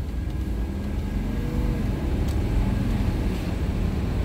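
A Mercedes 300SD W126 with an OM617 diesel, fitted with new injector nozzles, pulls away gently on the road, giving a steady, loud low rumble of engine and road noise with no talking.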